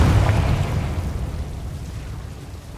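A Confringo fire spell blast in Hogwarts Legacy erupts as a loud, deep rumbling boom that rolls on and slowly fades over a few seconds, with no voices.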